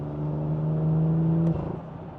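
A 2018 BMW M2 with a turbo-back exhaust holds a steady loud engine drone with strong low harmonics for about a second and a half, then drops off abruptly into a rougher, fading rumble.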